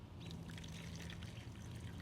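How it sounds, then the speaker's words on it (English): Clay slip poured through a paint strainer bag into a tub gives a soft, continuous liquid trickle, steady and fairly faint, with no talking. "I'll just pour the clay through that"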